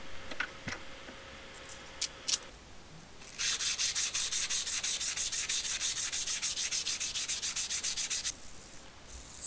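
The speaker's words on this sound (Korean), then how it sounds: "이제 넓은 면은 사포로 정리를 해줄 거예요." Sandpaper rubs the wide face of a handmade camping knife blade in a steady, rhythmic back-and-forth scrape, loud and close, after a few quieter knocks and handling sounds.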